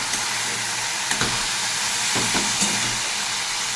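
Leafy greens with turmeric and a little sugar are stirred in a pan under a loud, dense frying hiss, with a few dull knocks and scrapes from the spoon.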